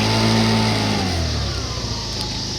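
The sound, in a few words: old scooter engine revving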